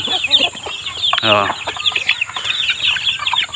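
Chickens and roosters cluck close by in a lively, continuous burst, with one louder rising squawk partway through and scattered background calls throughout.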